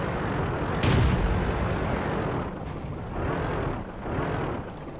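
A World of Tanks tank cannon fires a gold shell in one sharp, loud blast near the start. A low rumbling engine and battle ambience continue underneath and swell in slow waves.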